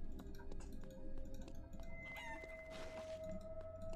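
Chicken clucking in a video game, a few short clucks and a crowing call over a background hum and game ambience.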